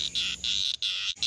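A cicada keeps up a loud, buzzing call after being swallowed by a jay, sounding in close, harsh bursts broken by brief gaps.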